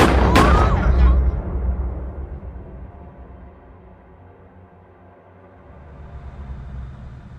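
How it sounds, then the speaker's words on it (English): A gunshot in an audio drama: one sharp, loud report at the very start with a brief echoing tail, then a low rumbling ambience that fades and slowly swells again, no voices. "I heard gunshots."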